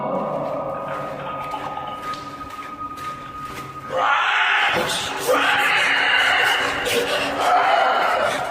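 In a tunnel, faint rattling and a low hum give way to a loud, harsh screech from an unseen creature, which breaks off briefly and then returns in sustained bursts.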